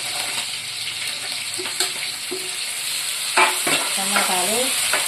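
Tomatoes and green chillies fry in a pan with a constant bright sizzle, while a spoon stirs and scrapes against the metal and a few clinks and knocks sound close by, with no voices.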